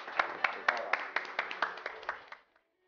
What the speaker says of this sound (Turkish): Alkışlıyoruz, teşekkür ediyoruz.